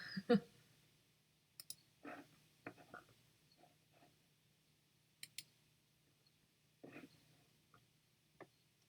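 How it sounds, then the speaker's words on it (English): A computer mouse clicking: sparse, quiet single and double clicks spread out over several seconds in an otherwise hushed room. "Sorry, I'm clicking around, and that's probably annoying."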